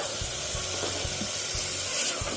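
Half a cup of green peas for mint rice sautéing in a pan, a continuous close sizzle with soft regular thumps of stirring underneath.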